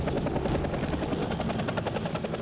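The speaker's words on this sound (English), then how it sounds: "As the chopper lands," A helicopter comes in to land in Alaska, its rotor beating in a loud, rapid, steady chop that fills the whole stretch with no voices.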